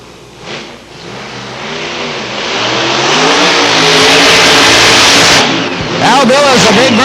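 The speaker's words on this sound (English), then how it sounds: "Al Billis, a big burnout here on the tower side." A Pro Modified drag racing car does a big burnout on the starting line at a drag strip, engine roaring up into a loud sustained howl, with a commentator talking over it.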